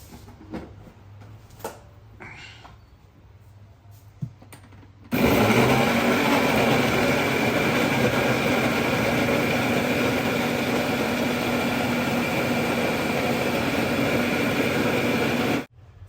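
After a few quiet knocks, a mixer grinder blending mango with cardamom starts with a sudden loud whir and runs steadily at high speed for about ten seconds before cutting off abruptly.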